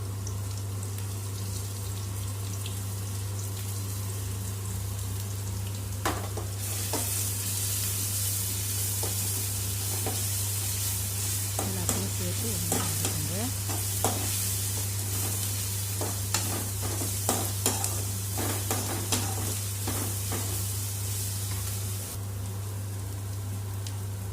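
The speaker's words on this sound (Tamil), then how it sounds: "அடுத்து இஞ்சி பூண்டு பச்சை மிளகாய் பேஸ்ட்டு போட்டு" Ginger, garlic and green chilli paste hit a hot pan for prawn thokku, and a broad sizzle flares up partway through. Scattered spatula scrapes and crackles follow over a steady low hum, with no talking.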